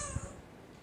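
A short, faint yowl from cats, one brief cry at the start that fades into quiet background.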